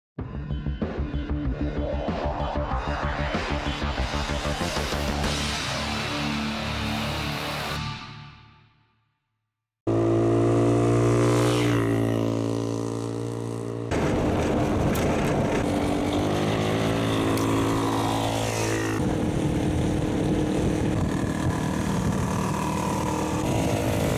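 A Suzuki DR-Z400E dual sport motorcycle runs hard on big, fast dirt roads, its engine loud and steady, cutting out to silence midway before roaring back with wind rush and rising revs.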